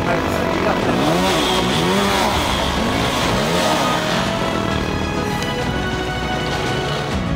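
A Yamaha WR250R Rally dirt bike engine revving up and down nearby, loud and continuous with rising and falling pitch sweeps, a steady buzzing drone underneath.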